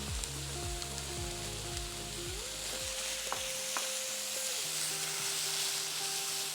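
Garlic and ginger hitting hot oil in an Asian vegetable stir fry give a steady, bright sizzle with crackling spatter, while utensils clink and scrape faintly underneath.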